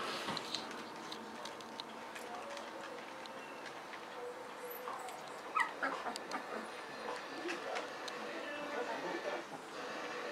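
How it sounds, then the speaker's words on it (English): Smooth standard dachshund puppies whimper and yip in a pile, a steady stream of small high cries and squeaks close by, with a few louder yelps scattered throughout. "Nothing like a pile of pups."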